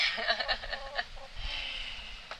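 Hen clucking inside a chicken coop, a brooding hen, with a run of short close clucks in the first second, then a quieter low rustle and faint calls.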